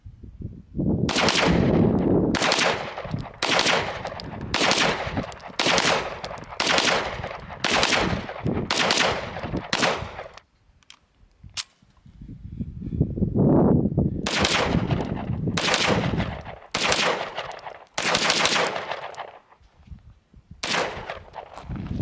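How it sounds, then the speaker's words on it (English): A rifle fires repeatedly at targets outdoors, sharp loud shots in a steady series of about a dozen, then a pause and another rapid string of shots. "So we were just shooting it pretty far out."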